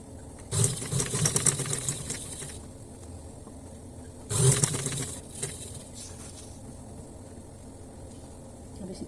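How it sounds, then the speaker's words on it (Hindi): A sewing machine stitches around a velvet shirt neckline in two short, loud close bursts separated by a quiet pause, with faint background sound and no talk. "अब हम इसको यहाँ से पैर की सिलाई करते हुए घूम के इस तरफ आ जाएंगे।"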